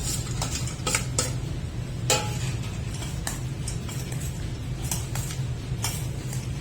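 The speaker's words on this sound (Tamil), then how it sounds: "இப்போ நம்ம உடைச்சு வச்சிருக்கிற குர்குரே இதுல கலந்து போட்டு நம்ம நல்லா மிக்ஸ் பண்ணிக்கலாம்" Crushed Kurkure snacks being mixed into sweet corn and chopped tomato, with a spoon scraping and clinking against the bowl in irregular light taps over a steady low background hum, no talking.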